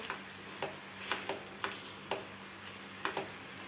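Thickened homemade apple jam mixture sautéed in a pan, soft bubbling sizzle with steady spoon scrapes and light taps at an even rhythm, quiet and close, no speech.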